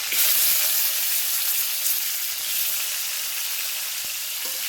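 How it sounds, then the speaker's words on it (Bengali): Steady, loud sizzling of vegetable stalks frying in hot oil in a wok, a continuous hiss close up with no talking. "ডাঁটাটা একটু হালকা করে ভেজে নেবো।"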